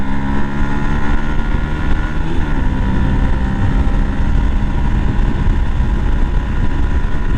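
A Yamaha YZF-R125 motorcycle accelerating to overtake: a loud, steady engine drone with heavy wind rush throughout, close and unbroken, no voices.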